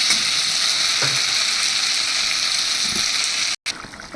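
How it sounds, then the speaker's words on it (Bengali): A spice mix for Bengali fish curry sizzles loudly and steadily in hot oil as water is poured in, with a brief cut-out near the end and no voices. "এবার আমি এর মধ্যে জল দিয়ে দেবো"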